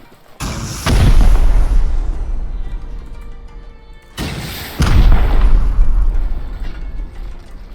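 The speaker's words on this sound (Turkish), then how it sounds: "Oraya iki raket daha vurduk mu tamam." Two heavy rocket explosions in the video game Rust during a raid, each a loud close boom that rolls into a long rumbling decay, about four seconds apart.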